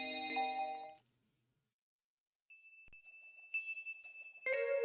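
A phone rings in the video game Custom Robo, a clear electronic ringtone of high repeating tones that starts after a brief silence and grows fuller, heard alone without talk.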